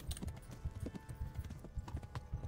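A horse gallops in the video game Kingdom Come, its hooves beating a fast, steady clip-clop rhythm that is quiet and even throughout, with no talk over it.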